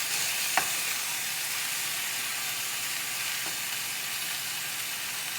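Ground beef frying in a pan on high heat, a dense, even hiss of sizzling fat with a couple of faint clicks, steady throughout and with no talking.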